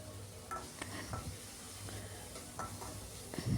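Green chillies sautéing in oil in a pan for vegetable sambar, a soft steady sizzle with a few light stirring scrapes and clicks of a utensil.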